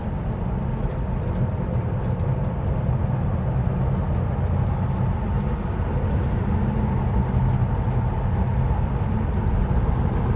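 A standard Tesla Model 3 electric car drives along a winding back road, giving a steady, continuous rumble of road and tyre noise from inside the cabin with no breaks and no talking.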